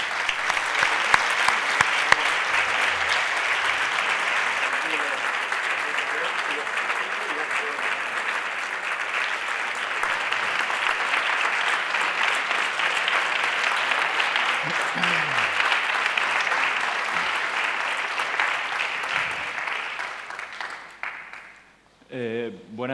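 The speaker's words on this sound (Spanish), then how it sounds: "recibimos con un aplauso a esta primera mesa de la tarde" A conference audience applauds to welcome the first afternoon panel of a discussion on autocracy and the war in Ukraine. The clapping is sustained and full-bodied for about twenty seconds, then tapers off as a voice begins at the very end.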